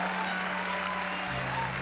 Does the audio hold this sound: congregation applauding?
yes